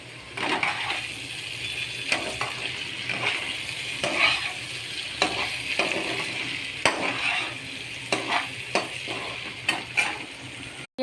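Sliced onion and tomato frying with potatoes in a pan, a steady close sizzle broken by repeated sharp scrapes and clinks of a spoon stirring against the metal, with no one talking.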